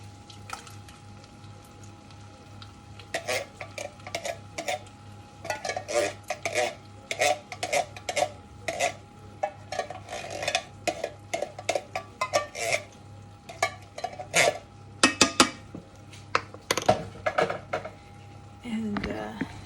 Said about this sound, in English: So I'm going to add a can of tomatoes, just diced.